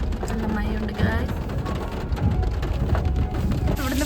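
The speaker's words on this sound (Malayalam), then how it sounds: "നല്ല മഴയുണ്ട് ഗായ്സ്." Heavy rain pours down in a constant, loud broadband hiss that fills the whole stretch, with a voice talking over it.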